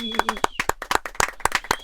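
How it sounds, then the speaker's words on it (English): A few people clapping at a podcast recording, about a dozen sharp separate claps in an irregular rhythm, close and fairly loud, mixed with brief voices. "Let's give her a round of applause."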